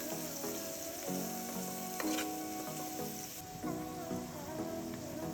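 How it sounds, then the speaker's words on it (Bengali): Bay leaves, cinnamon and onion fry in hot oil, a loud continuous sizzle with bright crackle and occasional stirring scrapes, close up and without speech. "আমি তেজপাতা, দারচিনি আর পেঁয়াজ দিয়ে দিলাম ওই তেলের মধ্যেই"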